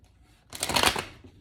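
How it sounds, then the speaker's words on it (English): Tarot cards are shuffled in one short riffling burst, close and distinct, with near silence before and after. "If I remember how to shuffle."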